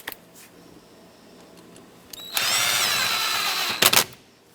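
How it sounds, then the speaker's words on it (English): A power tool tightens the ignition switch mounting bolt on a 2008-2010 Ford F-450, first with short faint bursts, then a loud steady whirring run of about a second and a half that ends in a few quick impact-like pulses. "Now put the mounting bolt back in and let's tighten it up."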